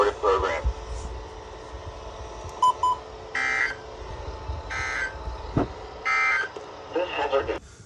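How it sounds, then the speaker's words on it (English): A NOAA Weather Radio weekly EAS test sends bursts of harsh data-burst buzzing and beeping tones in repeated short groups, mixed with stretches of a synthesized announcer voice speaking. "this has been a test of National Weather Service's radio public warning alarm"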